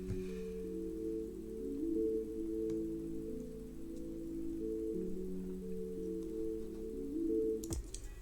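Lo-fi indie guitar melody sample from a Midwest indie sample pack, played in FL Studio: sustained layered tones moving through a mellow line at steady volume, muffled as if heavily filtered, ending with a brief click.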